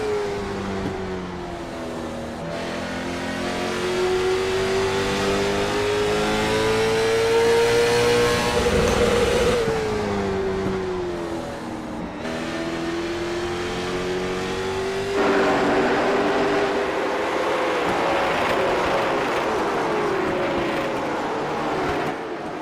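A sim race car engine at Martinsville Speedway holds a steady high drone, its pitch rising as it climbs and then bouncing off the rev limiter down the straightaway, loud and continuous from an onboard view.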